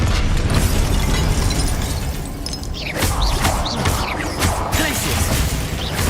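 Confringo explosion spell in a Harry Potter video game, a loud blast with shattering, crashing debris amid dense battle noise, followed by further sharp pops and bursts.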